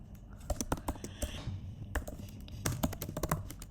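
Computer keyboard keys clatter in quick irregular bursts as someone types JavaScript code for a matrix problem, close and fairly loud, with no speech.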